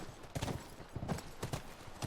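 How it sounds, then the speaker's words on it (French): Horse hooves clip-clop in The Last of Us video game, a quick, even rhythm of close, soft hoofbeats on the ground with no talk over them. "Petite balade à chevaux."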